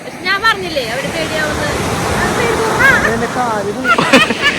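Waves wash and roar steadily onto a beach, with people calling out and talking over the surf.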